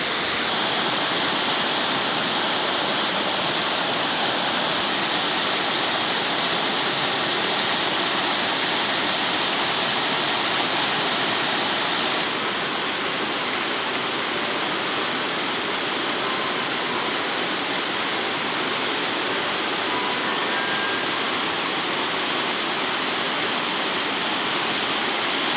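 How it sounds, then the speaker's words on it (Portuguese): Rushing water of the Mondego river after rain and cold weather, a loud, steady broadband roar that stays constant and close throughout with no voices. "O rio aqui já tem volume de água notável."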